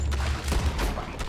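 Repeater rifle gunfire in the video game Red Dead Redemption 2, several sharp shots in quick succession, loud and close during a bank robbery shootout.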